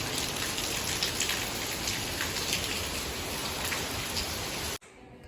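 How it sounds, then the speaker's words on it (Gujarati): A heavy downpour of rain pours steadily as a dense, even hiss at close range, then cuts off abruptly near the end. "જો મુસળધાર વરસાદ વરસી રહ્યો છે."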